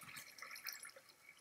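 Flowing water in the video game Minecraft, a faint trickling and dripping with soft splashy patter, quiet and alone.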